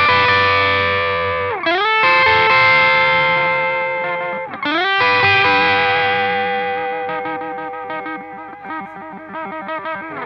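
An electric guitar runs through a multi-effects unit with distortion and echo, its sustained notes wavering with finger vibrato and string bends, loud and continuous with no talking.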